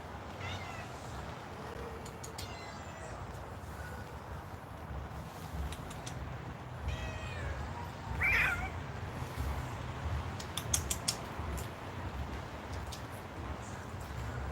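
Cats meow indoors: a few faint, scattered cries, one a little sharper, rising over a steady low background hum.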